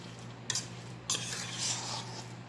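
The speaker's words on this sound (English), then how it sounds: "So I'm just stirring. Make sure I have everything combined." A spoon stirs a stuffed deviled crab mixture in a bowl: two sharp utensil knocks against the dish, followed by soft, continuous scraping and mixing, close and fairly quiet.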